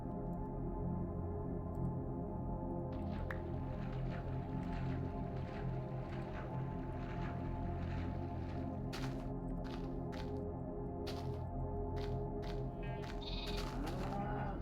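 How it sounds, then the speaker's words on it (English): Sheep bleat in the block-building game Minecraft, including a baby sheep that has just spawned, with several short cries repeating over a steady ambient bed from about the ninth second on. "Is that a baby sheep that just spawned there?"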